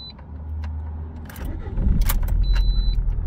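A car engine cranks and catches after a few key and mechanical clicks, then settles into a low, rumbling idle that grows louder and steadier, close by.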